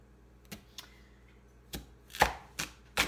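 Unpeeled organic potatoes and sweet potatoes chopped into chunks on a board, about six separate knife thuds at irregular intervals, the later ones louder and sharper, close up with no talk.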